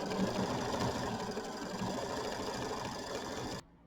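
A sewing machine stitches quilting across a Kimberbell mini quilt in a fast, steady, close whir. It runs without pause and then cuts off abruptly just before the end.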